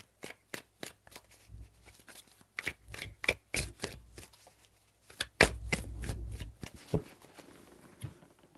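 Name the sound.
shuffling tarot cards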